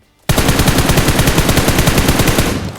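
A sharp onset launches a rapid, evenly spaced burst of automatic gunfire from the mobile battle-royale shooter PUBG Mobile, loud and close, holding a steady rattling rhythm for over two seconds before tapering off, with no voices.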